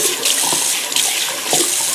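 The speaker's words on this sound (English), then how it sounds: "all you have to do is get the faucet going, splash the water down a bit" Water runs steadily from a bathroom sink faucet during a shaving cleanup, a close, continuous splashing hiss into the basin with small uneven surges.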